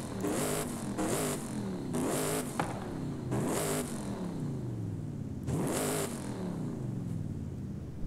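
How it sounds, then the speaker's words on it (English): A diesel V8 engine in a Toyota Tundra TRD Pro revs repeatedly in sharp bursts, about five times, each roar rising and falling back to a rumbling idle, loud and close. "let's listen to what a diesel V8 sounds like"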